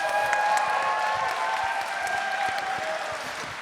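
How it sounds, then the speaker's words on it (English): Convention crowd at a Power Rangers panel applauding the guests, sustained dense clapping that tapers slightly, with a faint tonal hum and scattered crowd noise underneath. "Give them a big round of applause"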